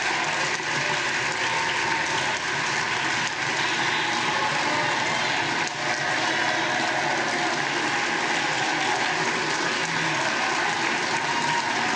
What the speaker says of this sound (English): And they do that stupid clap every time